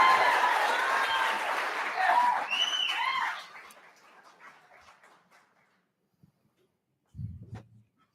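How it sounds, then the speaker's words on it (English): An audience at a business pitch competition applauds as a compost company's team comes on stage, with loud clapping and a few whoops that die away after a few seconds, leaving near silence and a brief low thump. "Give them a big round of applause."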